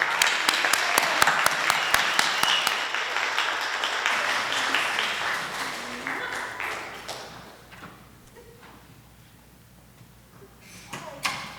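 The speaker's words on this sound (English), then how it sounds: "Y'all give her a hand clap" An audience at a guest-speaker book signing applauds the introduction of Dr. Combs. A dense, lively burst of hand clapping fills the first few seconds, then thins and fades into quieter room noise.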